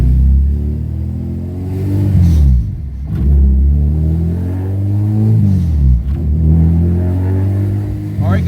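A car with a swapped Honda K24 six-speed gearbox driving on the road, loud engine revving rising and falling through several gear changes, with a low rumble throughout.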